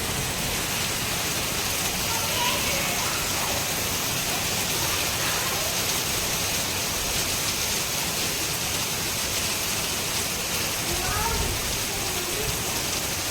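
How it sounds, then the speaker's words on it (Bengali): Heavy rain falling outside a home, a dense, even, unbroken roar of downpour throughout, with a faint voice now and then beneath it. "আর দেখো কতটা বৃষ্টি পড়ছে"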